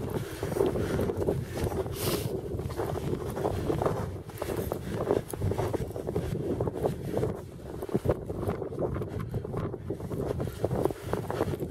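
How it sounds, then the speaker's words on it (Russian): Strong wind blowing across a frozen lake during ice fishing for omul, a steady roaring rush with heavy buffeting against the microphone, loud and continuous without talk. "Че, ветер восточный же обещали, а почему западный дует?"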